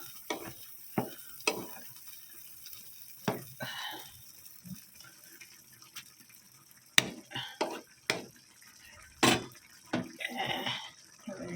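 An egg is stirred and fried into Maggi noodles in a pan: intermittent scraping strokes of a utensil come at an irregular rhythm over a soft sizzle, close and fairly quiet.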